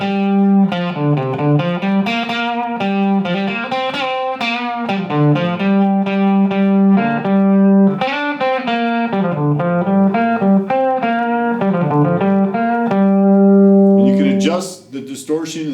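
Electric guitar through a 1 to 2 watt distorted tube amp on the bridge pickup, heavy overdriven tone playing a sustained melodic riff, notes ringing and bending, loud and close, ending in a brief scratchy flourish.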